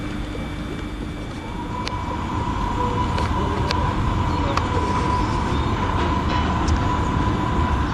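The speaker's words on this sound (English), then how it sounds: "That's a train come out of the depot." A train pulls out of a depot on a railtour route toward London Euston, with a steady loud rumble and a rising whine building over the track noise.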